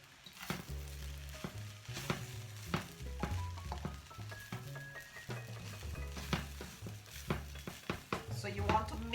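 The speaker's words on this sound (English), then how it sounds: "So you want to mix it properly, mix all the vegetables in properly." Vegetable couscous being stirred and fried over high heat in a pan, a faint steady sizzle broken by repeated scraping and clinking strokes of a utensil against the pan, close and without talk.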